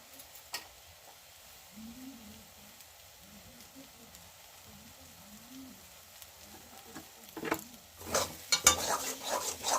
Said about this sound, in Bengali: যাতে না লেগে যায়, এই জন্য ভালো করে নাড়ানাড়ি করে নিচ্ছি